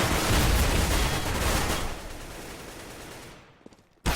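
Rapid bursts of rifle and pistol fire in a professional CS:GO esports match on the Cobblestone map, dense and loud at first, then thinning into scattered shots before a final sharp report.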